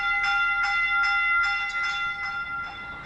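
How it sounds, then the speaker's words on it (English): Classic North American train bell on a modern Ottawa O-Train Line 2 train, ringing in a steady even rhythm of about eight clangs, close and clear over low background rumble. "unusual to hear those classic North American bells on such an otherwise modern"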